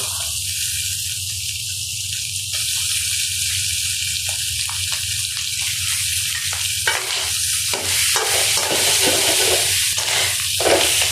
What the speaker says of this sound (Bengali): এখন পেঁয়াজটা আমি এমন করে একটু লাল লাল করে ভেজে নিয়েছি এখন আমি গোস্তটা দিব